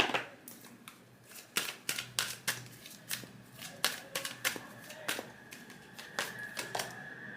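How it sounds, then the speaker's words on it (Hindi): Tarot cards being drawn and shuffled from a deck, giving a steady series of crisp, close card snaps and flicks in an even rhythm, with no talking. "अब हम फाइनली कुछ और कार्ड्स निकाल लेते हैं फ्रॉम द एंजल्स"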